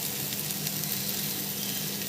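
Pabda fish fries in hot oil, a steady, dense sizzle that runs continuously and evenly at moderate loudness with no talk over it.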